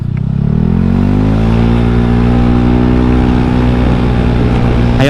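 A modified Honda Scoopy scooter accelerates hard on a test ride, its engine whine loud and close and climbing steadily in pitch with no talking over it.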